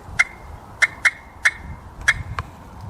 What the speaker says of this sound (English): Then we'll do a couple clucks and puts.